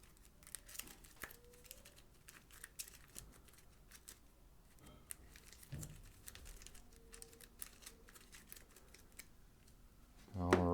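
A deck of game cards is shuffled nearby, producing faint, scattered riffles and soft flicks with quiet pauses between, ending in a brief louder burst of sound.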